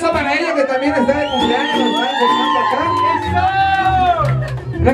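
Birthday crowd with a mariachi group cheers, whoops and shouts for Carolina, a loud, dense wash of excited voices rising and falling without a break.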